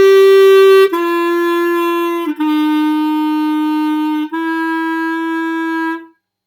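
A clarinet plays a slow practice measure of a solo melody, four sustained notes joined legato, close and loud with no talking, ending in silence.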